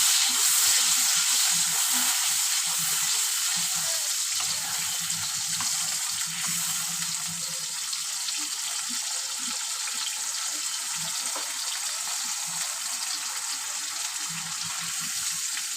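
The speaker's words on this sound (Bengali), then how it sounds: "মিক্সির বাটিটা ধুয়ে একটু জল দিয়ে দিলাম, কারণ অনেকটাই মশলা লেগে থাকে।" Running tap water rinses leftover spice paste from a mixer grinder jar in a home kitchen while cooking a Bengali tangra fish curry, a steady hiss of flowing water throughout with faint clinks underneath.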